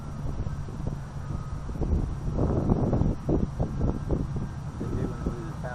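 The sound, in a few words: strong wind blowing during model plane flight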